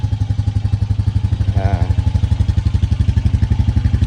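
A 2025 Honda Rancher 420 ATV engine idles steadily after a cold start in 15–26 °F weather on 0W-30 oil, its loud, close, rapid even putter pulsing throughout with a brief higher whine midway.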